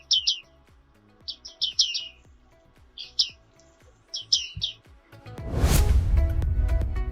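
A small bird of temperate Europe and Asia gives bright, clear chirps in short repeated bursts of two to four notes, loud and close, with a sudden broad noisy rush near the end.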